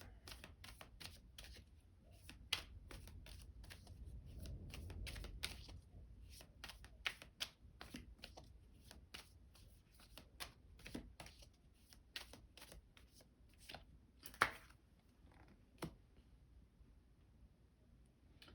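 Tarot cards shuffled and drawn by hand at close range, a quiet run of soft riffling flicks and crisp card snaps with brief pauses between them.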